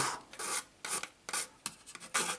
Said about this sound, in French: Une fois que j'ai fini de tout bien limer ici, de tout avoir bien, voilà, de tout raboter